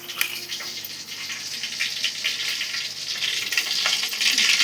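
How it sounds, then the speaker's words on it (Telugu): Cumin, mustard seeds, onion and curry leaves hit hot oil in a pot for rasam tempering, giving a steady close sizzle with faint crackles that builds slightly toward the end. "గిన్నెలో ఆయిల్ పెట్టేసుకొని తిరువాత అయితే వేసుకున్నాము."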